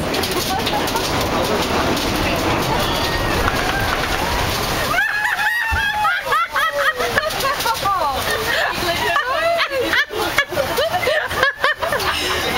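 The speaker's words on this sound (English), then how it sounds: "Thanks for that awesome slosh" An amphibious Hippo tour bus in Victoria splashes down into the water, a loud rushing slosh of water that gives way to chattering and cheering passengers.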